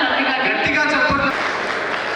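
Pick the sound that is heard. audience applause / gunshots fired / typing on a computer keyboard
audience applause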